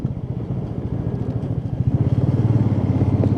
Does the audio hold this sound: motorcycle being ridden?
yes